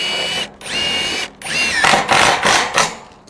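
A power drill drives a screw into steel siding on a large post-frame workshop, whining in several close, loud bursts that rise and stop, with short pauses between them.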